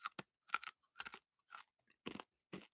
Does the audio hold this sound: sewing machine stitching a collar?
no